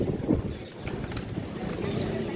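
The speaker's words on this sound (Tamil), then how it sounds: "புறாக்கள் நிறைய இங்கே இருக்கின்றன" Pigeons gather at a temple in Dwarka, their low, soft cooing murmuring faintly beneath a steady wash of open-air ambience and distant crowd noise.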